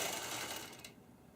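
A longarm quilting machine sews a regular stitch while working a pantograph, giving a quiet, rapid mechanical whir for about a second before it stops, with no voices.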